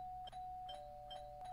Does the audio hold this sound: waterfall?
no